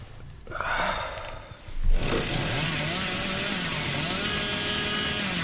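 A chainsaw roars in a video game, sputtering at first, then a sharp surge as it revs up into a loud, sustained, warbling buzz.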